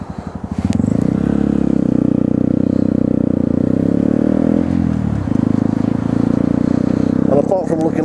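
A Grom motorcycle rides along with a steady, close buzzing engine drone that shifts pitch midway as it changes speed, then ends in rattling noise.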